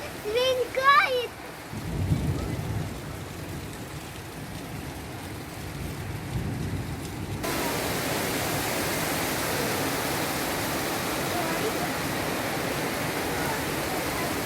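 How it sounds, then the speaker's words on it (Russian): Heavy rain pours down in a thunderstorm, a dense broadband roar that builds and then holds steady and loud, with brief whistling sounds near the start before the downpour swells. "Дождик, ливень!"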